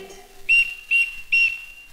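A toy-like whistle is blown three times in quick succession, producing short, bright, high tweets, each clear and close with brief pauses between blasts.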